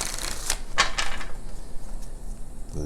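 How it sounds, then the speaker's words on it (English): Quick papery riffles and flicks of tarot cards being shuffled, a few crisp bursts up close, then quieter handling. "I feel like I need to shuffle again."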